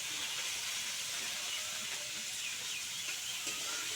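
Chicken mince, potatoes, green beans and tomatoes sizzle while being stir-fried in spices, making a continuous, dense hiss with faint scraping through it.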